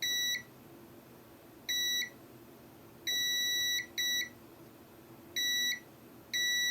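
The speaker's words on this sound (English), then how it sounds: "we're just looking for one beep on each side of these caps" A multimeter in continuity mode gives clear, high-pitched beeps of varying length as probes touch capacitors on a damaged Nintendo Switch board, six separate tones over a quiet background hum.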